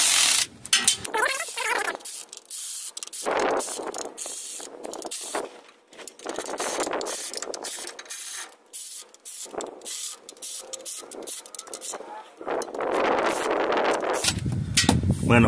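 Ratchet clicking while tightening the transmission pan bolts on a 2001 Toyota Sequoia 4.7, with short bursts of mechanical ratcheting broken up by pauses and someone talking between turns.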